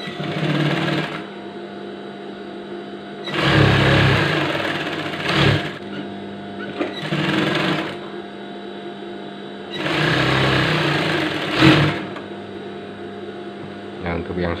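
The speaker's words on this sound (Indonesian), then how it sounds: "Untuk yang sebelahnya lagi kita jahit kampuh biasa ya" Sewing machine running a plain seam on a drawstring-waist gamis dress with batik trim, its steady whirring stitching coming in a few separate runs with pauses between them while someone talks.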